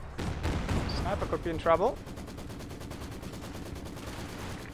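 Rocket barrage in a war strategy game, rapid repeated explosive cracks at the start, then a stretch of dense rattling impacts continuing under a brief spoken remark.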